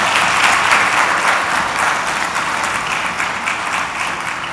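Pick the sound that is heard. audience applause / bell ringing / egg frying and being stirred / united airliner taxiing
audience applause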